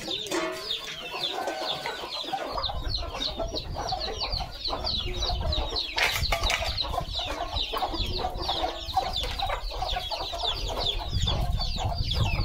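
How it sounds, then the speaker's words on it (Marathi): Several chickens cluck and squawk continuously nearby, a busy overlapping chorus with occasional louder calls over a rustling background. "बघा हे कोंबडे हे गाडगा आहे."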